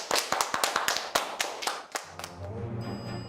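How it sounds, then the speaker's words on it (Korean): Children in a classroom applaud at the end of a lesson: about a dozen quick, sharp claps in a brief burst lasting two seconds, then fading out as music starts. "박수."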